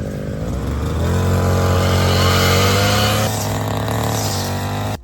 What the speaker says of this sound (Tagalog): Magtatabas kami ng damo gamit yung grass cutter.